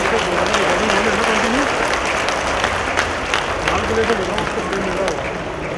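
Audience applause at a televised Hindi discussion event, a dense continuous wash of clapping for several seconds, loud and steady, with a voice speaking underneath.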